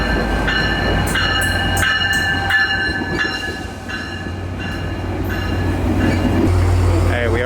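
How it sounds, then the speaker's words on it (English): A Tri-Rail double-decker train pulls into the Golden Glades Transit Hub station, its deep rolling rumble loud and close with high tonal squeals. Background voices are faintly present. "I see the train coming though"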